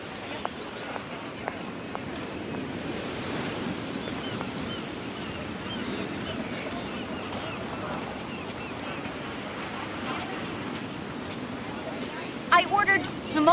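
Wind blows steadily at a shore, a continuous broad rush with microphone buffeting, scattered brief knocks and a few sharper noises at the end; people talk briefly.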